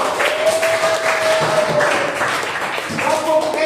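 A group breaks into applause during a classroom training session, a rough burst of clapping mixed with voices and a faint steady tone.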